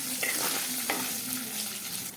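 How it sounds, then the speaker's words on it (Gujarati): Spices and ingredients with a pinch of turmeric sauté in a pan for a patra tempering, giving a soft steady sizzle with a couple of stirring scrapes. "થોડી વાર માટે આપણે બધી વસ્તુને સાતળી લેશું."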